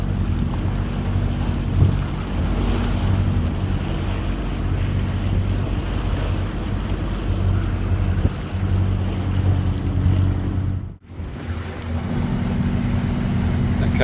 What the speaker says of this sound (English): There's always a swell rolling through here.